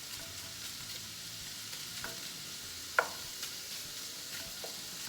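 Half a pound of 80-20 ground beef frying in a pan over medium heat gives a faint, steady background sizzle, with a few soft clicks and one sharper tap of a utensil against the pan.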